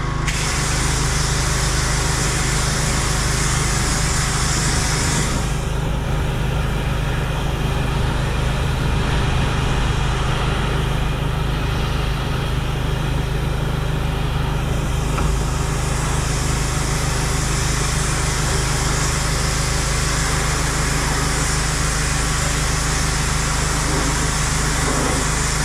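A pressure washer blasts water into the inside of a wheelie bin, a loud continuous hissing roar with a motor droning underneath, the spray dropping in intensity for a stretch midway before resuming at full force.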